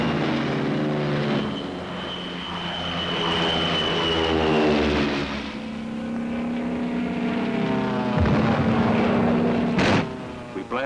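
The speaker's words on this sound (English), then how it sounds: "Thunderbolts take off from our new field." P-47 Thunderbolt fighter planes take off from an airfield, propeller engines roaring loud and steady with rising and falling pitch as aircraft pass close by.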